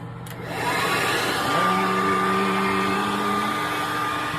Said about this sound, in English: These are the ones that all you need is a blow dryer.